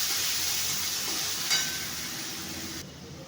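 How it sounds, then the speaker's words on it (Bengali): Ginger, onion, garlic and spices frying in oil for a fish-head curry, giving a loud, steady close sizzle and hiss throughout with a brief stir clatter, the noise easing slightly near the end; no talking. "আদা পেঁয়াজ রসুন মশলা ভেজে দিচ্ছি"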